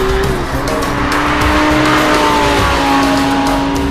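An Audi R8 with a mid-mounted V10 runs hard on a test track, its loud engine note climbing and shifting pitch and overlaid with tire squeal, close and continuous.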